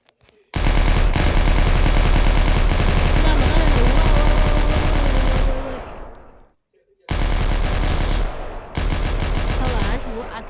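Rapid automatic gunfire from a gun in Minecraft, a dense loud burst that runs for several seconds, breaks off briefly, then resumes in a second volley with a short gap inside it.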